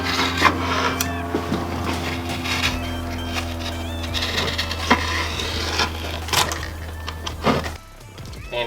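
Rubber grip tape being cut by hand around a skateboard deck, giving a steady run of scraping, rasping strokes with scattered thunks and faint knocks, fairly close and with no talk, ending in a short quiet moment near the finish.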